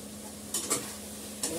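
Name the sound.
poppy seed paste frying and being stirred in a pan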